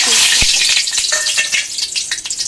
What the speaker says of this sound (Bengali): তেল গরম হয়ে গেছে, এবার আমি এর মধ্যে দিয়ে দেবো শুকনো লঙ্কা